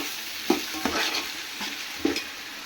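Ginger garlic paste frying in ghee in a pan while being stirred for pulao, a steady sizzle broken by a few distinct scraping stir strokes, close and alone.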